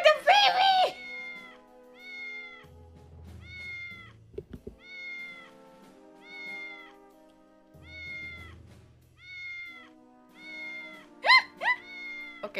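A cat meows in a repeating series of short, clear, evenly spaced calls, loud and close, with some louder, busier noise at the start and end and a low hum between calls.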